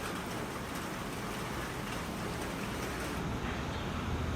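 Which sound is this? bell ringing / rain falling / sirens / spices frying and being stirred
rain falling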